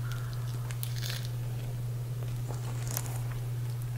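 Close-up crunchy bites and chewing on a Taco Bell crispy chicken quesadilla, several crisp crackles over a steady low hum, with no talking.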